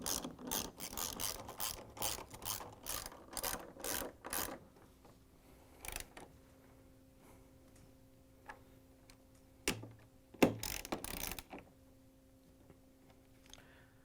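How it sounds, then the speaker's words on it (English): A ratchet with a 10mm socket and extension tightens the lower door hinge bolts on a Samsung refrigerator, first a rapid run of close clicking strokes, then sparse scattered clicks and clunks. "we're going to grab the 10mm socket with the ratchet and the extension again and tighten it down"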